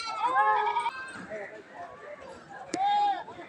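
Local goats at a livestock market in Habiganj bleat loudly in several drawn-out, wavering calls, one near the start and another near the end, over a murmur of market voices and shuffling.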